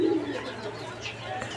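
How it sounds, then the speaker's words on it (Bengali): A pair of blue Shirazi pigeons coo softly and close by, a low murmuring call over a faint background hum. "এই মুহূর্তে দেখাচ্ছি এক জোড়া শার্টিং কবুতর"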